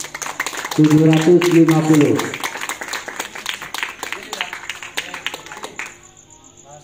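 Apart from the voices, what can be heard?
audience clapping for a quiz team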